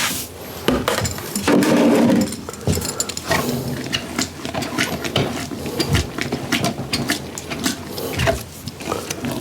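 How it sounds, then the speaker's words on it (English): Bourbon corn mash being stirred in a pot, with steady scraping, rubbing and sloshing strokes in an uneven rhythm, close and fairly loud throughout. "A lot of stirring though."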